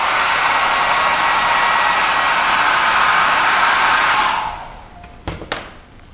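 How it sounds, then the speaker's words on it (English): Hair dryer blowing steadily on glued foam cosplay armor, a loud even whoosh for about four seconds that then cuts off, followed by a few sharp taps and thumps in a quieter room. "Okay, now get the hairdryer."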